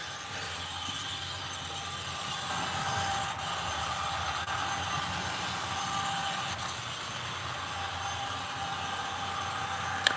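HO-scale model locomotive on a DCC layout running with a sputtering, dirty-wheel fault: steady faint mechanical hum and whir with a few sharp clicks, heard alone without talk.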